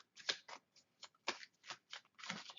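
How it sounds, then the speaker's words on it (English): Tarot cards are shuffled in quick, crisp riffling bursts, about a dozen close papery flicks in an uneven rhythm, quiet and alone without talk. "Shuffle them all up."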